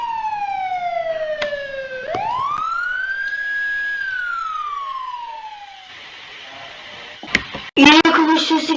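A police car siren wails loudly nearby, sweeping up and down in long tones before shifting pitch, followed by a few sharp bangs and clatter near the end.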